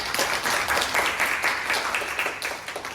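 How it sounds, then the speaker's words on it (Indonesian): A student group gets a round of applause after its presentation in a university lecture, many hands clapping in a steady, moderately loud patter that tapers off toward the end. "Berikan aplaus untuk kelompok 5."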